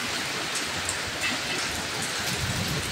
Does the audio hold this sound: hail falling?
yes